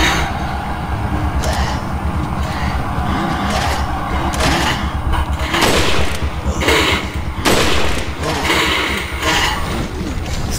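Dense, rapid gunfire with sharp bursts and mechanical clatter, constant and loud throughout, layered over a busy Resident Evil 4 game soundscape.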